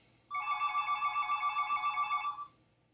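A telephone bell rings in one continuous bright trill lasting about two seconds, loud and close, then stops.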